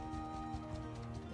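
Horse hooves clopping steadily during a ride in the video game Mount & Blade II: Bannerlord, a continuous rhythmic patter over a dense layer of game ambience and music.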